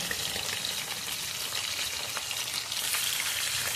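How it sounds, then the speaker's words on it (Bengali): Chicken pieces frying in hot oil, a dense continuous crackling sizzle that stays close and fairly loud throughout with no voices. "এবার এইগুলো নেড়ে নেড়ে ভেজে তুলে নেব।"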